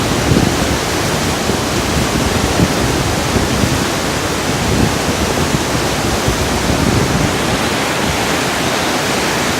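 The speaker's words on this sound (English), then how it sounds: "Look at the flow of the water." A rushing mountain stream on a steep trekking route along the Chafchingol Pass pours in a loud, dense, unbroken roar of churning water heard close up, with no voices.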